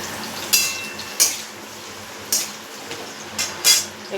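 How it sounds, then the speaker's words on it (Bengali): Cauliflower pieces frying in a pan, a soft background sizzle punctuated by several sharp clinks of a utensil scraping and knocking against the pan at irregular intervals. "প্রথমে ফুলকপিটা ভেজে নেব।"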